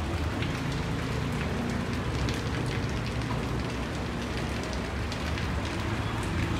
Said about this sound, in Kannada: ಮಳೆ ಜೋರಾಗಿದೆ